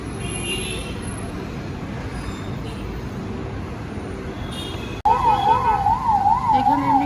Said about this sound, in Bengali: এই অ্যাম্বুলেন্সের আওয়াজটা শুনলে কিরকম লাগে, শরীর খারাপ করে ভীষণ